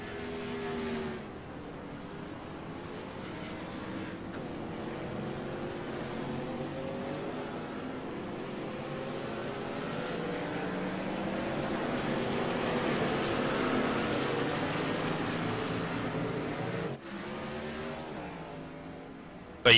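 Race truck engines roar around the Talladega track in a continuous loud drone that slowly swells toward the middle, dips briefly near the end, then resumes.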